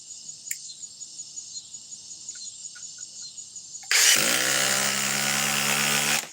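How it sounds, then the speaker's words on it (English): A DeWalt 870 hydraulic impact driver with a quick collet starts suddenly and runs loud and continuous for a couple of seconds, a steady high whine close by after a stretch of quieter tones. "Let's move on to the 870 hydraulic from DeWalt, which has a quick collet."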